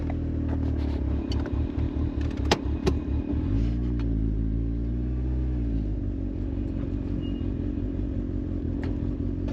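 A Mitsubishi Evo's engine runs steadily nearby, with a low rumbling idle that pulses briefly before settling into a smooth, even drone.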